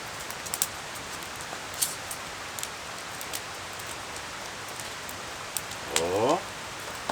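Light rain patters softly and steadily across a coastal campsite, with scattered faint drop ticks, a few sharper taps and a brief louder rustle near the end.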